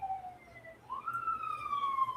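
Siren wails from outside, steady and moderately loud, its pitch dipping and then rising into a long sustained tone across a couple of seconds with low background rumble.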